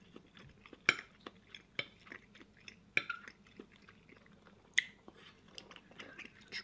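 Someone eats homemade beef bourguignon in close-up, with soft wet chewing and occasional sharp clinks of cutlery against a plate, spaced irregularly against a quiet background.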